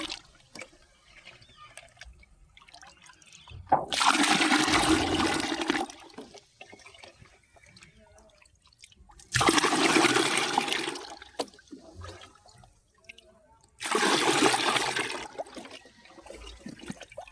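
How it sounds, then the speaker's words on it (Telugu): Plain water poured in three separate gushing bursts, each about two seconds long, to dilute fermented liquid fertilizer for kanakambaram flowers. Quiet pauses with faint trickles fall between the pours. "నార్మల్ వాటర్ వేస్తున్నాను."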